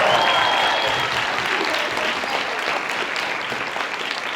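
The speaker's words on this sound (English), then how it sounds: "ladies and gentlemen, give them a round of applause" An audience at an anime convention voice-actor panel applauds with loud, dense, sustained clapping that fills the room and fades slightly toward the end, with no talking over it.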